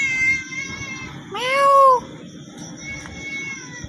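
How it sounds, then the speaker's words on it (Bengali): A cat gives a single drawn-out meow, fairly close, against a steady hum of background noise with faint tonal sounds. "এই জায়গায় বিড়াল আসলো কোথা থেকে?"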